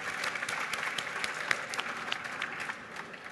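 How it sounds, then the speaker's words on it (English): Audience at a fintech conference stage applauds a pitch finalist, steady dense clapping from a large crowd throughout, fairly close and even in level. "Big round of applause for Matthew"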